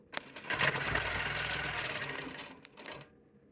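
A longarm quilting machine stitches rapidly off the edge of a quilt while sewing on the binding, a close, steady mechanical whir that cuts out with a brief tap at the end.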